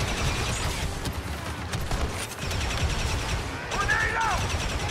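Video game gunfire crackles in quick bursts and scattered shots at moderate distance, mixed with background noise and a talking voice over parts of it.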